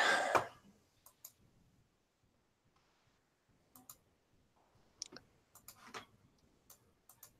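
Someone types on a computer keyboard in a quiet room, sparse light clicks in small clusters with pauses between them, after a brief louder noise at the start.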